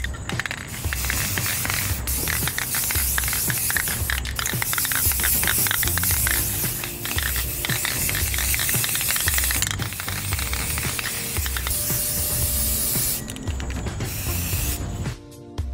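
Spray can applying primer to a 3D-printed Iron Man MK 85 suit part, a loud continuous hiss held for over twelve seconds with faint rattles, then a brief stop and restart at the end.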